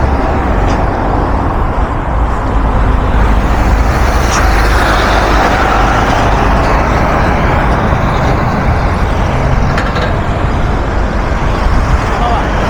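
Steady roar of traffic on the Kampala–Jinja highway through the Mabira section, with buses, trucks and cars passing close and loud, a possible air-brake hiss, and faint talk mixed in.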